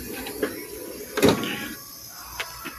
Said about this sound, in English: The first sliding drawer,